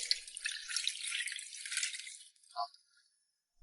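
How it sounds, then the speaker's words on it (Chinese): Soaked wood ear fungus is rinsed clean under running water, a close, steady splashing hiss that stops abruptly, followed by a brief clatter and quiet. "然后放在水上清洗干净。"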